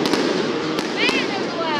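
Fireworks exploding overhead in a few sharp bursts over a constant roar of crackling noise, loud and fairly close, with people talking excitedly in the background.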